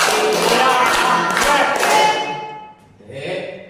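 A group in a teachers' training session claps a rhythmic counted pattern, a dense burst of close hand claps that stops abruptly, followed by a brief softer murmur.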